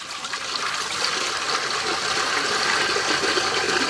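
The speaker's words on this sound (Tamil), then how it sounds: "தண்ணி சேர்த்துக்கலாம்" Water being poured for heating to melt chocolate in a village kitchen, a steady loud rushing gush with no pauses and no voices.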